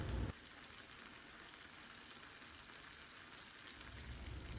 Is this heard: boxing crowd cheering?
no